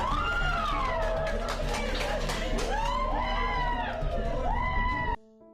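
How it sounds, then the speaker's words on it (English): A courtroom crowd cheers and shouts after a not guilty verdict, with high excited cries and overlapping voices filling the room before cutting off abruptly. "With the cheering from the background"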